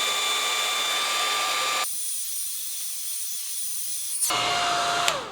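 A hair dryer blows on a watercolor painting of a banana, a loud, steady whirring hiss that cuts off abruptly partway through, leaving near silence before noise returns at the end.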